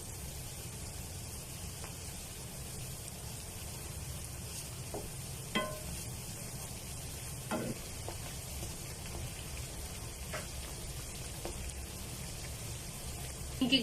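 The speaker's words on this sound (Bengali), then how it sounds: "এবার আমি নিমকিগুলো দিয়ে দিচ্ছি এবং ভেজে নিচ্ছি" Nimki pieces frying in deep oil, a steady soft crackling sizzle with a few faint clinks of a utensil stirring and turning them, heard close with no one talking.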